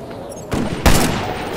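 Sniper rifle fire in Ghost Recon Future Soldier: two sharp, loud reports about a third of a second apart, the second heavier with a brief rumbling tail, against quiet game ambience.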